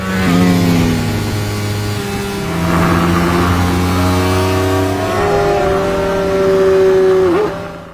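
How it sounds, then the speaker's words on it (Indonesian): Ducati 1199 Panigale motorcycle in a race, its engine revving loudly and climbing through gears with rising and falling pitch, close by and alone without talk. "Tony yang berada di barisan belakang menggunakan motor Ducati 1199 Panigale bisa menyusul lawannya satu persatu"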